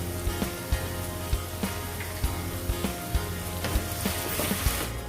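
Chopped tomatoes fry with turmeric powder and cumin in a hot pan, giving a steady close sizzle with scattered crackles and pops throughout and no voices.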